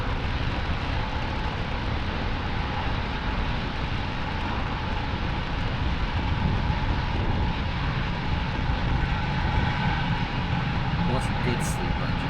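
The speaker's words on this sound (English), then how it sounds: "Falcon 9 has successfully lifted off from Pad 40 at Cape Canaveral Space Force Station" Falcon 9 rocket lifting off from Pad 40 at Cape Canaveral Space Force Station, a steady, dense, broadband roar that holds loud and unbroken throughout, with faint commentary voices beneath it.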